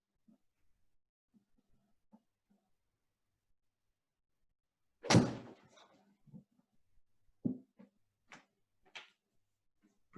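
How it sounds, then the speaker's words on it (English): A 5 iron strikes a ball on a golf simulator with one sharp, close impact, followed by a few fainter knocks and clicks in an otherwise quiet room. "I'm going to be hitting a 5 iron."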